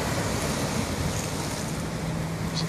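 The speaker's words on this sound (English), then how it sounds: "some seconds of the ocean on the rocks in my city" Ocean waves wash steadily against rocks at night along the shore of Santos city, a continuous broadband roar with wind buffeting the microphone and no voices.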